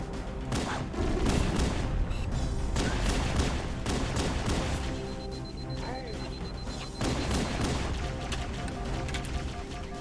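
Pistol gunfire in Halo: Combat Evolved aboard the Pillar of Autumn: rapid repeated sharp shots over a busy backdrop of game music and effects, with bursts clustered through the stretch.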